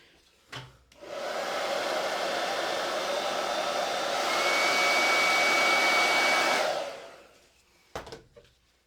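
A hair dryer runs steadily for about six seconds, drying paint on a Christmas gnome craft project, with its whine rising slightly midway before it cuts off, and faint handling clicks before and after.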